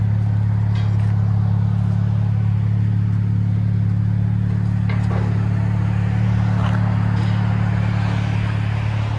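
Idling exhaust of a 2020 Chrysler 300S V6 fitted with a dual exhaust and Vibrant resonators: a steady, deep low rumble held close and even for the whole stretch, with no voices over it.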